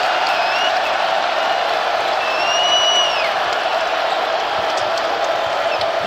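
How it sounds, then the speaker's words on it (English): A college basketball arena crowd at a Memphis Tigers versus Georgia game sends up a steady, dense roar of cheering that swells slightly midway and holds at a loud level throughout. "Tom Crean waving for the crowd to get on its feet."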